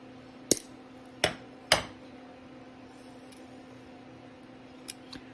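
Wire cutters snip through a polymer clay cane in three sharp close clicks in quick succession, followed by a couple of fainter taps in a quiet room.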